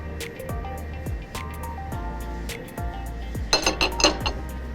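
A thick glass jar with a stainless steel lid clinks repeatedly, bright ringing taps every half second or so, then a quick cluster of sharper clatters near the end.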